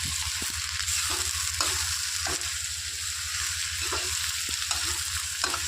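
Cumin and spices frying in hot oil, a steady close sizzle with occasional sharp crackles and pops, with no talking.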